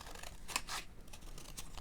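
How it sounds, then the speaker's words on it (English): Scissors snip through painted watercolor paper scraps for a handmade Christmas card ornament, with a few crisp close cuts around the middle of a quiet, brief stretch. "Take my scissors."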